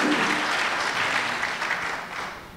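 An audience at a Hindi kavi sammelan applauds a poet, a full, dense burst of clapping that starts strong and gradually eases off toward the end.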